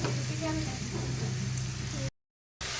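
Onions sizzle in a hot pan as a roast is started, giving a steady, close, hissing fry with a low hum beneath it, then a short cut to silence before the sizzle resumes.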